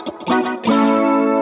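Electric guitar run through the Eventide H9 chorus setting, a couple of plucked notes ringing into a sustained, shimmering chord with a lush, wavering tone.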